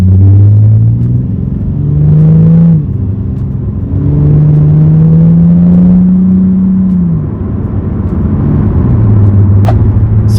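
A Nissan 370Z with added sound deadening drives along, heard from inside with a steady low exhaust drone and road rumble that rises and falls through gear changes.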